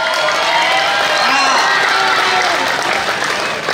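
An audience claps during a live comedy performance, giving a dense, steady wash of applause with voices calling over it throughout.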